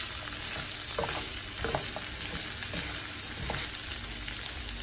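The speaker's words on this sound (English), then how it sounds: "we are going to stir it around and let like the potatoes kind of marinate in the chorizo" Potatoes sizzle in chorizo in a pan, a steady close frying hiss broken by a few scraping stirs of a utensil, with no talking.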